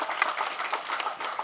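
Brief applause from the audience at a Tamil movie audio launch, a soft, diffuse patter of many hands clapping at a distance for a moment.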